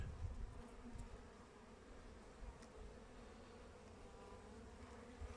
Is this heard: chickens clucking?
no